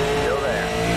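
A super late model race car in the iRacing simulator roars on throttle, a loud, steady engine drone with a shifting pitch and no break in the sound, over the short span.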